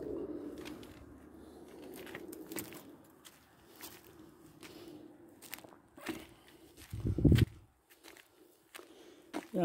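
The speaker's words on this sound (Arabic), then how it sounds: "فيها كثير من طيور الحمام اللي ترمز للسلام وللمحبة اللي نادى فيها السيد المسيح" Pigeons coo softly at the church in Banias, their low calls scattered among footsteps and light shuffling in a quiet, reverberant space, with one louder close thump near the end.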